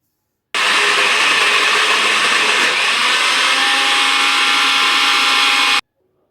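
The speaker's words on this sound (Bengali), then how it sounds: "পুরো মিক্সিতে এটা দিয়ে এবার মিক্সি থেকে এটা পেস্ট করে নেব" An electric mixer grinder whirs steadily and loudly for about five seconds, blending shrimp, onion, garlic, ginger and mustard into a paste, then cuts off abruptly.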